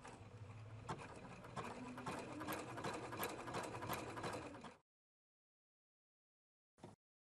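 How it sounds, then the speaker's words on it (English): A Husqvarna Viking Platinum Plus sewing machine runs a quick series of stitches to attach a button, a close whirring rattle that stops abruptly, followed by silence and one brief later noise. "Sew several stitches and touch stop to tie off."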